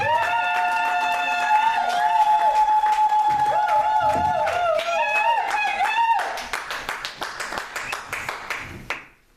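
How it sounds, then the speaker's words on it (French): A church congregation claps in a rhythmic pattern while sustained voices and music carry over it, the clapping growing sharper and more distinct toward the end before stopping abruptly. "Acclamons pour Jésus-Christ de Nazareth."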